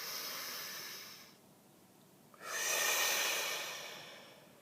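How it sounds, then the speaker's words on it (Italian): Two deep breaths taken during a guided relaxation exercise: a long breathy exhale, a pause, then a stronger, louder inhale-exhale swelling and fading, close and alone without talk. "facciamo un bel respiro profondo affinché possiamo iniziare a sciamanizzare"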